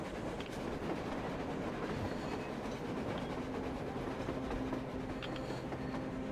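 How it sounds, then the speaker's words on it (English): A train approaches on the surface in Metro Exodus, a continuous low rumble with faint rhythmic clatter holding steady and loud throughout, with no voices. "A train! A damn train on the surface!"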